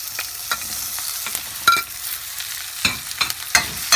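Onions, garlic, green chilies and mixed vegetables sautéed in a pan for vegetable kuzhambu, a steady close sizzle broken by irregular scraping stirs of a spatula, no talk.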